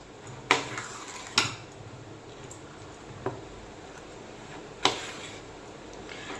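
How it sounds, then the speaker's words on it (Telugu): A knife chops ridge gourd into small pieces on a board, giving a few sharp, separate knocks spaced unevenly and heard close up over a quiet room. "ఇప్పుడు ఈ బీరకాయని చిన్న చిన్న పీసెస్ లాగా కట్ చేసేసుకుందాము."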